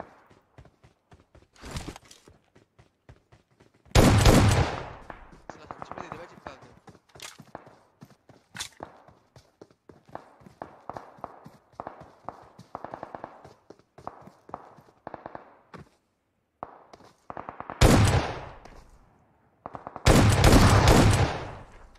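AKM rifle gunfire in PUBG Mobile, a few loud sharp bursts of shots separated by quieter stretches of footsteps and small game noises, near and punchy.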